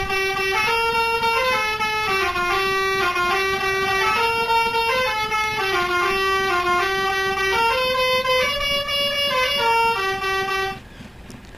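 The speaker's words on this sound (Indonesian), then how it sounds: "untuk klakson 1 di sini seperti ini" Musical horn 1 of the STJ Iguazu bus mod in the game Bus Simulator Indonesia (BUSSID) plays a loud, continuous melodic tune of shifting tones for about eleven seconds, then cuts off abruptly.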